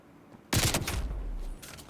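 A 74U submachine gun fitted with a Task Force barrel fires in Call of Duty multiplayer. A sudden burst of rapid automatic shots lasts about a second, loud and close, then a fainter second burst follows.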